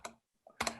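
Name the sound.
typing on a computer keyboard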